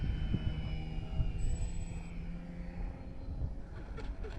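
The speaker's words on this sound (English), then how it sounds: "we're gonna land this time with no flaps in the grass" X-Fly Twin Nova twin-motor RC plane approaching to land on grass without flaps, a steady electric motor whine with a faint high-pitched tone, distant and fairly quiet throughout.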